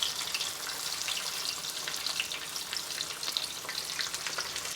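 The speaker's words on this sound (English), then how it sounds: "All right, we're going to drop our fish in." Whole red snapper frying in beef tallow over medium-high heat, a dense, steady crackling sizzle heard up close and continuous throughout, with no voices.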